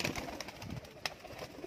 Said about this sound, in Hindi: सारे परांद कबूतर आ गए ने भाई जी